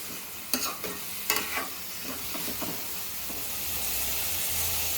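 Ridge gourd peels and tomatoes fry in a pan with a soft, steady sizzle and hiss. Several scraping clicks of stirring come early on, close but fairly quiet, and no one speaks.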